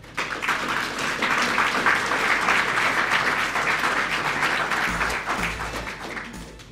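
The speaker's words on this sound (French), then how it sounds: "je vous demande d'applaudir Carlo de Souza." An audience at a book launch applauds steadily, a dense wash of many hands clapping that holds for several seconds and then begins to thin toward the end, with no talking.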